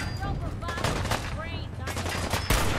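Gunfire in Fallout 4 comes as rapid, continuous bursts of shots in a loud, dense stream. Someone talks over the firing.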